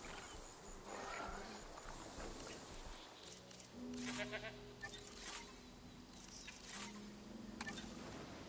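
Goats bleat in Jurassic World Evolution 3, several overlapping cries alongside hoof clatter and a low ambient game score, moderately close.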